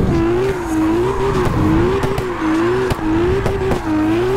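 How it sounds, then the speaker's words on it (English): Car drifting in the CarX racing game, a loud sustained engine note wavering as the throttle is feathered, with continuous tire squeal and brief dips in the drone, close and without talk. "you kind of feather the throttle just like that when you're drifting"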